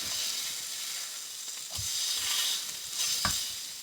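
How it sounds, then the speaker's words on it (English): Bacon frying in a pan, left to cook until crispy: a steady, bright sizzle and crackle with a couple of sharper pops and stirring clatters. "I like my bacon crispy, so I'm going to just let it be in here for a bit"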